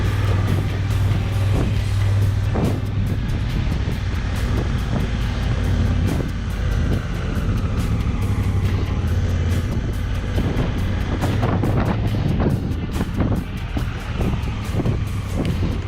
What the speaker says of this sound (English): brief couple hours I was on my motorcycle, I was happy.